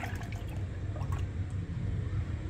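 Milk is poured for pastry cream in a continuous liquid stream with soft gurgling and dripping at close range, and no one talks over it.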